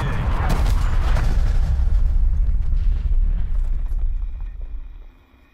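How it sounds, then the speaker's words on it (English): Incoming artillery shells explode in a video game battle, a heavy rumbling, crackling barrage of deep booms that holds loud for several seconds before fading away. "Artillery targeting detected. Net call. Incoming artillery."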